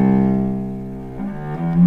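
A Cecilio CCO-100 student cello plays a sustained bowed note that shifts to another pitch partway through, a rich, close and fairly loud tone with no voices.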